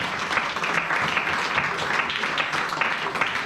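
A church congregation claps and cheers in praise, a dense, loud, steady wall of applause filling the whole stretch with no break.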